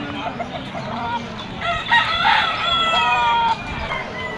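Young roosters (stags) crow and cluck amid the busy din of an open-air chicken market at a pet fair in Malabon, with several overlapping calls rising over steady crowd noise.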